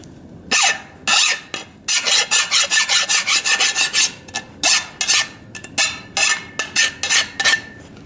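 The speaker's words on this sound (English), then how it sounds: "After a few minutes with the file, I feel much better working around this thing." A hand file rasps along a sharp, burred metal edge on a 1000 lb transmission jack, in quick rhythmic back-and-forth strokes, loud and close, with brief pauses between bursts and no talking.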